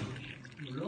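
Hot water poured for coffee makes a brief, close liquid splash and gurgle lasting about a second, under people talking nearby.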